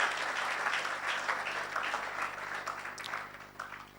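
Steady applause from an audience at a talk on bridging the digital divide, a dense, even wash of many hands clapping at moderate distance that carries through the whole stretch without a pause.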